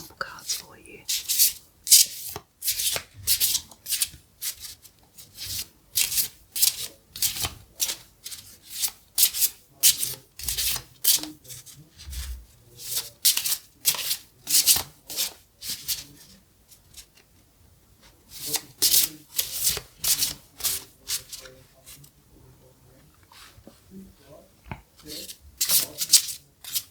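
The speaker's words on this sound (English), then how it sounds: "So we'll give these a shuffle and I'll pull a couple example cards for you." Divination card deck being shuffled, a long run of crisp, rapid papery riffles and rubs in repeated bursts with short pauses between, close and intimate, with a brief soft voice.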